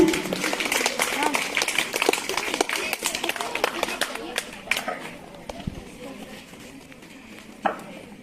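An audience at a school English language club event claps in a lively burst of many hands that thins out after a few seconds, with a few scattered claps near the end and voices talking over it.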